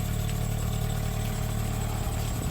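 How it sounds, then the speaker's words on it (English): Engine of a Kia Forte Koup with a rough, noisy running note, idling steadily with a deep low drone and constant mechanical clatter at an auction lot. "I just don't like the noise that engine is making."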